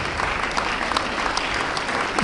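Applause fills a church during a wedding blessing, a dense steady clapping from the gathered guests throughout the short stretch.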